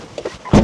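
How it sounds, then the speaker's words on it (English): Driver's door of a 1986 Toyota Corolla AE86 GT Coupe (Levin) Twin Cam swung shut from inside, a single solid thunk after a few faint light knocks. "Let's close this door."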